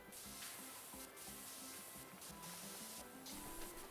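A pressure washer jet hisses steadily while cleaning a carousel in Powerwash Simulator, a continuous broadband spray with slight surges, close and unbroken, with no talking.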